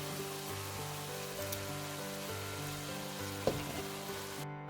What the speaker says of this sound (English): we can go ahead and add our ground beef.